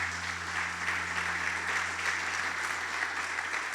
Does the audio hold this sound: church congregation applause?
yes